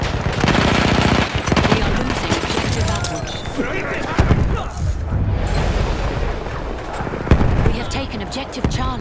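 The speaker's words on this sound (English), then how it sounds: "Enemy machine gun." An enemy machine gun in a combat video game fires rapid bursts, with booming impacts mixed into a loud, busy battle soundscape while a voice speaks over it.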